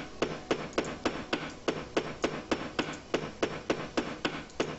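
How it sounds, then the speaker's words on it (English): Repeated hammering as boards are nailed over a window in the zombie survival game Project Zomboid: about twenty sharp, evenly spaced blows in quick rhythm, loud and close with no talk. "Let's board this up a little bit."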